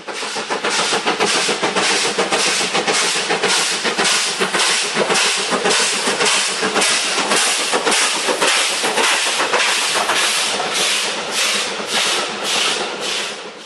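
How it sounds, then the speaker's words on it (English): A Thompson B1 (Antelope class) steam locomotive hauling a goods train chuffs past in a loud, regular rhythm of hissing beats, wagons rolling along steadily close by. "a Thompson B1, otherwise known as Antelope class, with a goods train heading north"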